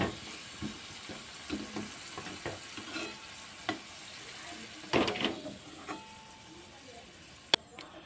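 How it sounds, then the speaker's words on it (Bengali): Potatoes fry in hot oil with a continuous sizzle, broken by scattered stirring scrapes and a few sharper knocks and clinks from the pan. "এখন আমি আলুগুলোকে ভালো করে ভেজে নেব।"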